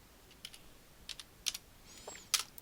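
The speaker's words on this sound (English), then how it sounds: "then I'm going to type it in now" Typing on a computer keyboard, heard as a handful of separate, fairly quiet key taps spread irregularly across a short stretch, with a slightly sharper tap near the end and no talking.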